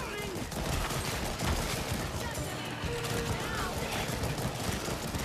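Video game gunfire in After the Fall, with dense rapid shooting aimed at tentacle weak points, loud and continuous across the whole stretch amid general game noise.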